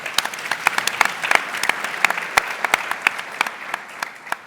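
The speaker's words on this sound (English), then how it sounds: "Let's applaud Marcela." An audience at a startup demo day anniversary event applauds, a dense, steady round of clapping with many sharp individual claps, moderately loud and continuous throughout.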